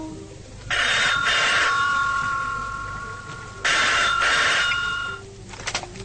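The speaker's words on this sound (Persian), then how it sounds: "باز دیدم زنگ میزنه مثل همیشه تلفن" A telephone bell rings in two long bursts separated by a pause, loud and close, with a few shorter rattling chirps trailing at the end.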